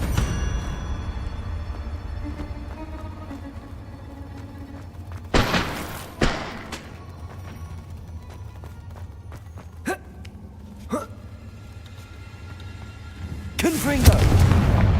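Confringo explosive spell blasts in Hogwarts Legacy gameplay go off as several sharp, booming bursts, spaced irregularly over a rumbling low background, with the last blast loud and close.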